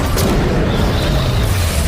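A bomb thrown at a girl explodes in an action film, a heavy deep boom with rumbling low-end roar that stays loud and dense throughout.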